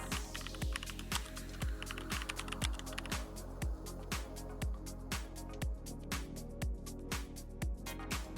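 Rapid typing on an iPad Magic Keyboard at a desk, a continuous run of close, crisp key clicks with soft thuds in a steady rhythm.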